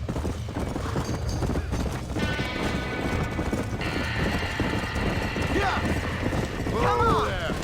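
Horses whinnying and hooves clattering inside a burning barn in the Western game Red Dead Redemption, a steady dense din of stamping and neighs mixed with crackling fire, with voices shouting over it.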